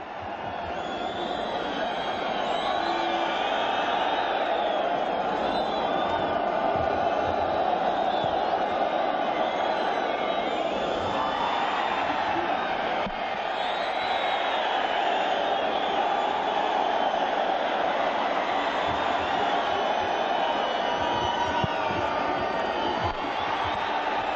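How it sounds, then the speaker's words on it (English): Dense, steady roar of a football stadium crowd at an AFC Champions League round-of-16 match between FC Istiklol and Persepolis, a continuous wash of massed voices with scattered whoops, holding at even loudness throughout. "It is a joy at the moment to witness this crowd and the noise that they bring."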